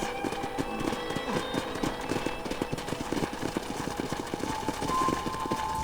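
Steady, rapid clip-clop of hooves trotting along without a break, set against a constant humming background, from the video game Red Dead Redemption.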